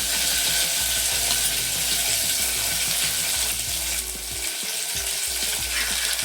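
Curry leaves, onion and tomato sizzle steadily in hot oil for a drumstick sambar tempering, a dense close crackle with occasional stirring scrapes and no talk.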